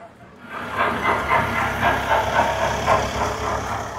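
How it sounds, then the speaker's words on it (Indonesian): A train in Japan in spring passes close by, producing a loud, sustained rushing rumble and hiss that swells quickly and then holds steady for several seconds. "Kita ketemu lagi sama kereta ini."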